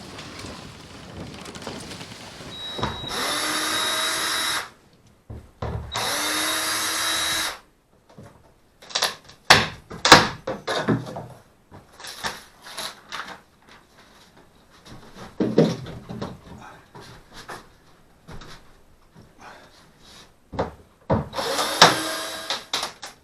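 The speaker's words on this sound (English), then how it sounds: "I think I'll sand this down and make it a little bit more smooth" Fiberglass is sanded smooth with a power sander in a few loud, steady bursts lasting a couple of seconds each, separated by quieter stretches of scattered knocks, handling noise and faint movement.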